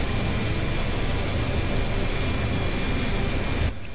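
A Reaver aircraft in the video game Planetside flies close by with a loud, steady jet-engine roar that holds evenly and drops off suddenly at the end; no talking.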